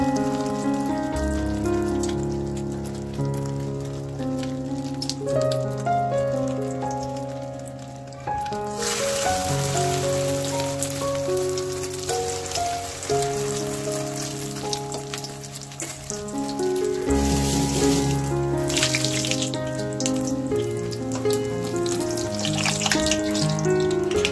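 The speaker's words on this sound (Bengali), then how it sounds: "দিয়ে লাগিয়ে আমি ওটা ছেড়ে দেবো তেলের মধ্যে।" Egg-coated bread pakoda fries in hot oil in a wok, a loud continuous sizzle and crackle that swells midway, with background music playing throughout.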